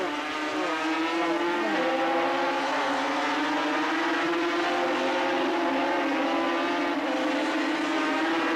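350cc racing motorcycles at the 1983 Australian Grand Prix at Bathurst, a dense continuous roar of several high-revving engines with shifting pitch as the bikes charge downhill, loud and close.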